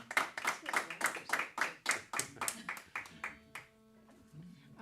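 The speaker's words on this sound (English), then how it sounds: "Let's give them a round of applause" A small audience clapping at a folk music show, a steady rapid run of close claps that fades out after about three and a half seconds, leaving faint sustained tones behind.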